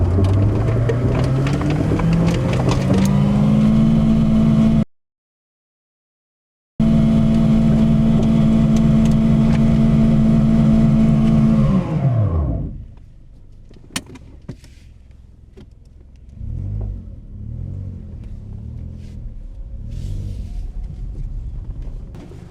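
A Toyota Corolla drives with one wheel in water, its engine humming loudly and steadily before winding down, then quieter sloshing and splashing follow near the end.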